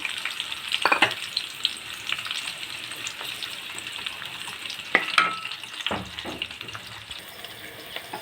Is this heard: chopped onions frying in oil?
yes